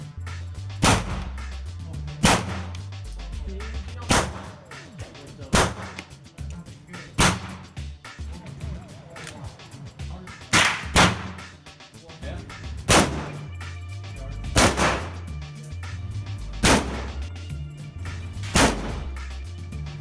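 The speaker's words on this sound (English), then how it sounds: "we also decided to test out some other guns we had" Several guns test-fired at a shooting range in America. Sharp, loud shots ring out one at a time at irregular intervals of roughly one to three seconds, about ten in all, each followed by a short echoing decay.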